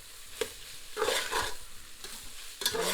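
Chicken cannelloni filling seasoned with chili stirred in a pan, with soft scraping strokes and a light sizzle in a quiet room.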